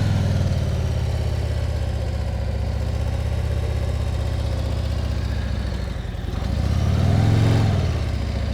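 A Harley-Davidson CVO motorcycle engine runs steadily at low throttle with a deep, rumbling pulse, then swells briefly louder near the end as the revs rise.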